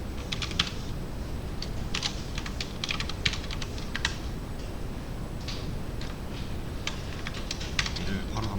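Rapid keyboard typing on a computer keyboard while Python code is entered, with bursts of keystrokes running steadily throughout over a low room hum; no one speaks.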